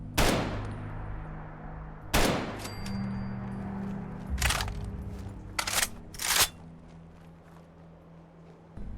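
Gunshots from a scoped weapon in Fallout 4, fired near an APC: five sharp, loud cracks spaced irregularly over several seconds, each ringing briefly against a low background hum.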